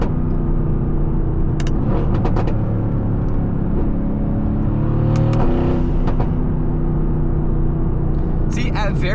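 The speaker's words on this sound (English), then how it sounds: "this V8, it just shakes your entire body. The rumble, everything." A Mercedes-AMG GT S with a V8 rumbles steadily while driving, a deep, continuous low engine drone with slight shifts in pitch as revs change, and a voice talks over it throughout.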